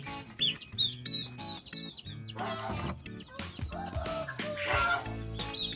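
Native Thai chicks clucking and peeping in a busy chorus in a straw-lined brooder in winter, many overlapping short calls close by, some deeper hen-like clucks mixed in.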